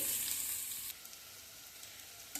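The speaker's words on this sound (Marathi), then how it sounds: "आता हे कारलं आपल्यांना गुलाबी सरंगावर येईपर्यंत परतून घ्यायचं आहे" Bitter gourd being sautéed in a pan for a Maharashtrian karela bhaji, giving a steady close sizzle that drops suddenly to a much quieter, softer frying hiss partway through, with a brief clatter at the end.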